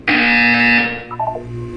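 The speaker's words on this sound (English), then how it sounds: "You will hear a buzzer." A loud, harsh electronic buzzer in Portal 2 blares for about a second at close range, followed by a short, falling string of beeping tones.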